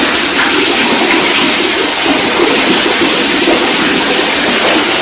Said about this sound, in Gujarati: આમાં પણ પાણી આવી ગયું મિત્રો.